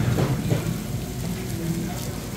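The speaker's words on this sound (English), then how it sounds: "Hear the sizzle?" Steady crackling sizzle of doughnut dough frying in hot oil at a bakery, a dense hiss that carries on throughout with a faint voice in the background.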